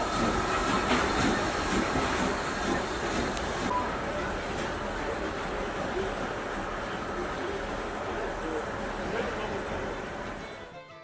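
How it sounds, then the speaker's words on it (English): A steam locomotive at Fort William pushing its carriages back into the sidings, with a continuous rolling rumble and rattling wheels, close and loud, easing off at the end. "the steam loco pushed its stock back into the sidings for a bit of cleaning and maintenance"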